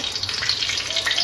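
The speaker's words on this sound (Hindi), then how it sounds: "अब इसमें हम ऑयल डालेंगे, थोड़े से क्यूमिन सीड डालेंगे" Cumin seeds sizzling in hot oil in a large pan, a steady dense hiss with crackle running continuously, close and moderately loud, no voices.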